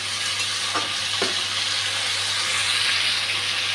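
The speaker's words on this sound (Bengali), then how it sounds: "তেলটা গরম হয়ে গেছে, মেখে রাখা মাছটা দিয়ে দিয়েছি।" Spiced fish hitting hot oil in a pan, a loud continuous sizzle with a couple of sharp spatters early on, steady and close.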